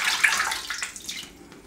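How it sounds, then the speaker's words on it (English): Running water from a tap wetting a badger or synthetic shaving brush at a sink, a close, steady splashing hiss that thins out toward the end. "Another ton of water there."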